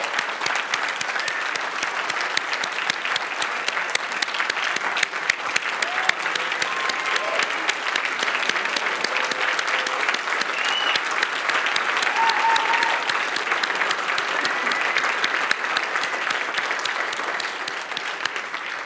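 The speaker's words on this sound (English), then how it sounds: "Would you guys give Eunice a big round of applause?" An audience in a seminar room applauds steadily for almost nineteen seconds. The clapping is dense and even, with no one speaking over it.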